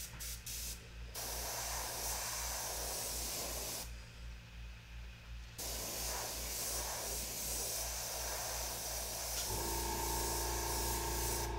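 An airbrush sprays black paint through an Artool PocketGraFX rivet stencil, a close, continuous hiss that pauses briefly midway and resumes, with a low compressor hum underneath.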